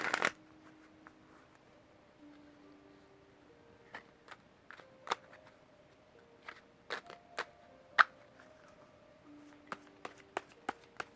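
A deck of cards is handled and shuffled close by in a quiet room, scattered crisp taps and flicks at irregular intervals over faint gentle music.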